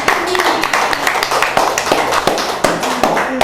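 An audience in Bengkulu claps close by, with sharp, irregular hand claps in a quick, uneven patter and no one speaking over them.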